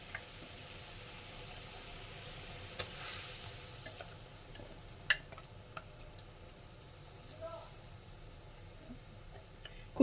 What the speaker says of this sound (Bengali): এখন এর মধ্যে আমি আমটা দিয়ে দিচ্ছি আম আর কাঁচা লঙ্কা পেস্টটা দিয়ে দিচ্ছি